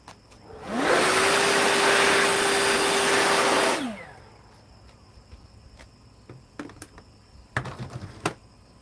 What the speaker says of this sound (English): Let's blow this saw off for one.